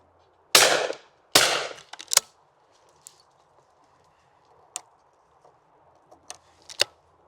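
Browning B15 over-and-under shotgun fired twice in quick succession, two loud sharp blasts with ringing decay, followed by a quieter mechanical click and scattered faint knocks and handling sounds in an otherwise quiet outdoor setting.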